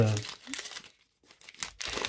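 The paper wrapper of a trading card booster pack crinkles and tears in bursts close to the mic, with a person talking briefly at the start.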